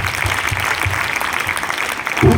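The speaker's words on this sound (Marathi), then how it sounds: "त्यामुळे तुमच्या सर्वांसाठी मला एकदा टाळ्या वाजवायच्या." A school audience at a Shivaji Maharaj Jayanti lecture claps together, a close, busy patter that runs throughout and swells slightly near the end.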